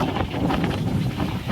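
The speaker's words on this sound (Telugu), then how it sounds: "గాలి అయితే చిన్నగా రావడం లేదు." Strong wind gusting across a microphone outdoors in a house garden in Qatar, a loud continuous rumbling roar with buffeting swells throughout and no speech.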